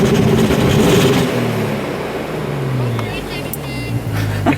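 A tuned 2001 Audi B5 S4 Avant, a Stage 3 car with water-methanol injection, revs close by in short bursts with a rising and falling engine drone, while people talk over it.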